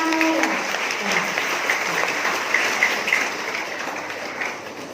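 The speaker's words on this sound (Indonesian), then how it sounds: "Beri tepuk tangan buat diri-diri ya." A church congregation at a Christmas gathering applauds in a dense, steady wash of clapping, with some voices and faint high tones mixed in over the noise.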